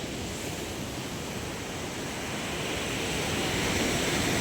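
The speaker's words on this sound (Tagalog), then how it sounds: "Buti hindi inabot ng malaking sagwak ng alon." Storm-driven ocean surf roars steadily at a fish terminal in Tanza, Cavite, a broad continuous rush of water and wind that swells slightly louder toward the end.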